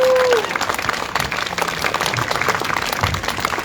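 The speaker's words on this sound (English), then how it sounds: "so a small applause for the organizers here." Outdoor crowd applause for the organizers at a Trans Day of Visibility gathering in Groningen; a brief tone at the start gives way to scattered, moderately loud clapping with some murmuring voices mixed in.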